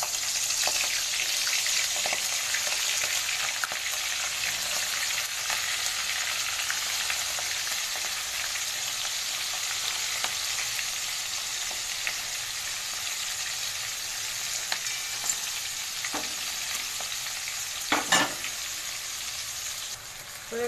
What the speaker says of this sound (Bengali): আমি দিয়ে দেবো এক একটা করে চিংড়ি।